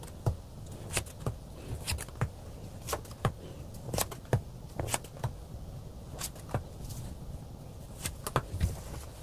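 Tarot cards being shuffled and drawn by hand, a run of crisp, fairly close snaps and flicks at an irregular pace over a faint steady background hiss.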